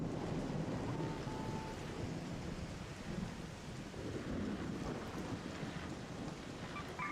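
Howling electromagnetic storm wind over Topside in the video game Arc Raiders, a steady, dense roar that stays loud and unbroken throughout, with no one speaking.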